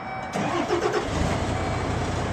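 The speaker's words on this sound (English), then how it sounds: "now that I know it's in neutral and all the brakes are on, I can safely turn my truck on" An automatic truck's engine cranks and catches after a brief quiet moment, then settles into a steady mid-pitched idle rumble. The sound is close and moderately loud, with no talking.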